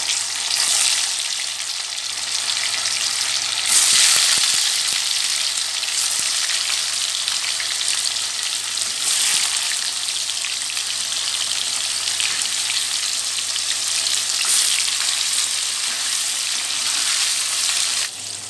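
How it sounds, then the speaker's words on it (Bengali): Paneer cubes frying in hot refined oil give a loud, dense, continuous sizzle that holds steady from start to finish, with no talking. "পনিরগুলো হালকা ভাজা ভাজা হয়ে গেছে।"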